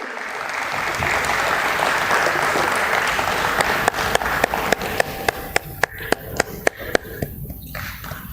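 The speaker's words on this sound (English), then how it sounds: "A round of applause for Shri Ajay Thakur." Applause at a stock exchange listing ceremony for a jewellery company, dense clapping from the audience that thins into scattered individual claps toward the end.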